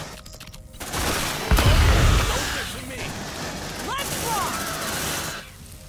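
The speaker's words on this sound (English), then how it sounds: "Suppressive fire!" Sustained suppressive gunfire in the Aliens: Dark Descent video game, a dense rattling fusillade with a heavy low thump near the start, continuing loud under shouted voices and fading out at the end.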